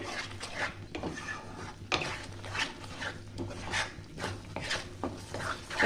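A chicken masala gets stirred and sautéed in a pan, a spoon scraping and knocking in an uneven rhythm over a soft low hum, close but fairly quiet.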